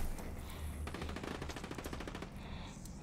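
Rapid automatic gunfire in the video game Warzone, a steady stream of fast repeated shots over a loud constant background rumble, moderately distant.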